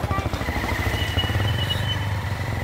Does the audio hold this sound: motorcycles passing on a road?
yes